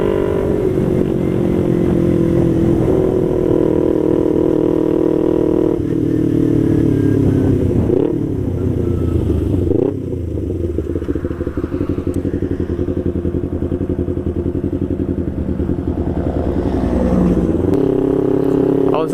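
A motorcycle ridden on the road, its engine loud and close throughout, rising and falling with gear changes and throttle, while a rider's voice carries over the engine at times.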